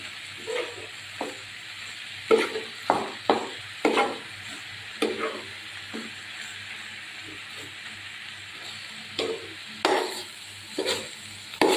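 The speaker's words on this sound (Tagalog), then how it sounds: "Haluin ko lang muna guys, ha?" Ground pork (giniling) stirred in a sizzling pan, with repeated scraping strokes of a spatula in uneven bursts over a steady frying hiss, close by.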